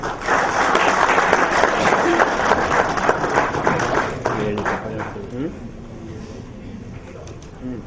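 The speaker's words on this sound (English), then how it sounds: "Ladies and gentlemen, round of applause, please." Audience applause at a magazine launch event, dense clapping that is loud for the first few seconds, then thins and fades toward the end.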